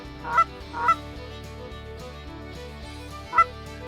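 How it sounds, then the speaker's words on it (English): Geese honk loudly and close by in North Dakota, a few sharp calls in a short burst, then a pause, then one more honk, over a low steady rumble. "Oh yeah, we got geese on the right"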